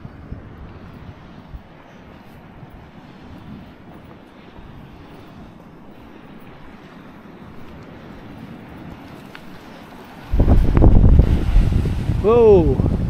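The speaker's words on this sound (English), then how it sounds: "It's bloody windy. Expect that by the ocean though, wouldn't you?" Strong wind roars across the microphone by the sea at Moelfre, Anglesey, Wales, rumbling low for a long stretch before a sudden, much louder gust near the end, with a voice faintly heard among the buffeting.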